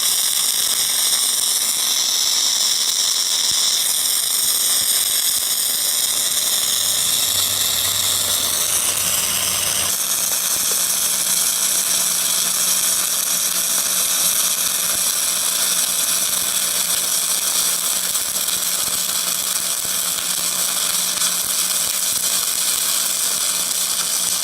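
Flux core welding a hot pass on steel pipe, the arc weaving side to side: a steady, loud crackling hiss that runs without a break, with a shift in tone partway through and no talk.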